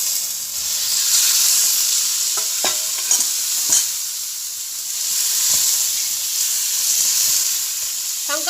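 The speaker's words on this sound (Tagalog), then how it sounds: "We can add the chicken now." Chicken sizzles steadily in a hot pan for a creamy milk chicken curry noodle dish, with repeated scraping stir strokes from a utensil cutting through the close, continuous frying hiss; no voices.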